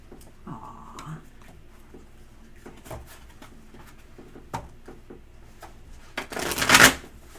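Soft papery riffling and light taps of tarot cards being shuffled, a few quiet handling sounds, ending in a louder burst of rapid card shuffling.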